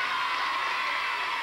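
A TV studio audience applauds children on a 1988 Quebec variety show, a steady wash of clapping and crowd noise with no clear individual claps.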